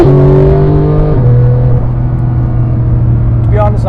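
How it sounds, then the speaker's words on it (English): Corvette C8 Z06 or Porsche 991.2 GT3 sports car under full throttle with the exhaust button on, a loud continuous engine roar with a gear shift around the first second, droning steadily close by. "Alright, so I've turned the exhaust button on. Let's floor it."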